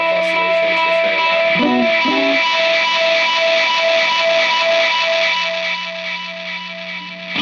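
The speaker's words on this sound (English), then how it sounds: "So now I have the self-oscillation" A Catalinbread Belle Epoch tape echo delay pedal in self-oscillation: a loud, sustained buzzing tone with dense stacked harmonics and a brief warbling pitch bend early on, gradually thinning and dropping in level near the end.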